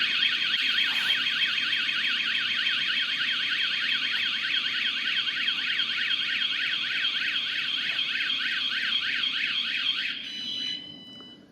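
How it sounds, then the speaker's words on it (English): A loud 110-decibel VanGuardian van alarm wails continuously, a rapid warbling tone cycling steadily for about ten seconds before cutting off. "it's a powerful, audible alarm that draws attention to criminal activity"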